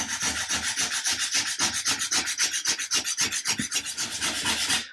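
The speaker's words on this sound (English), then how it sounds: "it's easier to do that on some form of sanding paper that's totally flat" Rhythmic rasping of a small wooden model ship part rubbed back and forth on flat sandpaper, about five strokes a second, close and steady with no talking.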